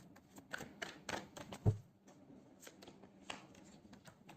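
Tarot cards drawn and handled up close, a series of soft papery slaps, flicks and shuffles at irregular intervals with one sharper snap near the middle, fairly quiet with no voices.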